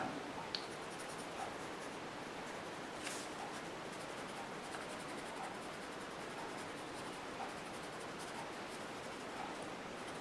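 A pencil works a tree drawing in small circular strokes, producing a continuous soft, close scratching and rubbing that stays even throughout, with no talking.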